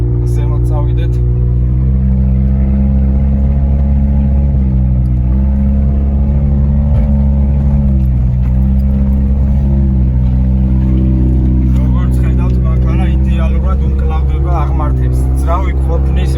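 A Mitsubishi Pajero iO climbs an off-road uphill track, its engine droning loud and close with a steady, strained hum that shifts slightly in pitch, while a voice talks over it.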